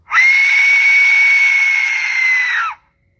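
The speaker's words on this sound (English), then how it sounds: "I found these things called Aztec death whistles" An Aztec death whistle is blown once in a single loud, sustained, piercing shriek lasting over two seconds, harsh and scream-like, then cutting off abruptly into silence.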